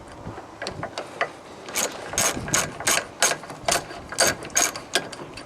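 A socket wrench on an extension bar loosens 8 mm anode bolts on an outboard engine, giving a series of quick, close ratcheting clicks in short uneven bursts with no talking.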